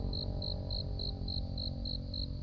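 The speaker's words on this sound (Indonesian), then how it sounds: "Kerikan jangkrik, kicauan burung" Crickets chirp along a quiet village road near tea plantations, a steady, evenly spaced pulsing trill over a low ambient hum.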